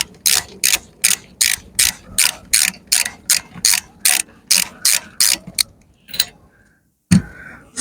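A ratchet turning a 14mm socket to undo a wiper arm nut on a Hyundai IONIQ Hybrid clicks in a steady, evenly spaced series of loud close strokes, then pauses with a final clunk.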